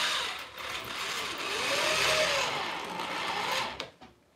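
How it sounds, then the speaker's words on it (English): An old corded Black & Decker drill runs steadily for about three and a half seconds, a loud continuous motor whine that rises slightly in pitch mid-run before cutting off and winding down. "I'm not using the cordless drill today. This is the old Black & Decker."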